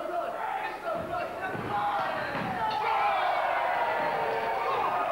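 Crowd noise at a Frontier Wrestling Alliance show swells steadily in the background, mixed with thuds from the ring, while a commentator talks over it.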